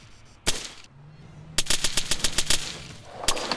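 Gunfire in the video game Arma 3: a single loud shot, then a rapid burst of close automatic fire cracking in a quick irregular rhythm, followed by another sharp shot, with no talking over it.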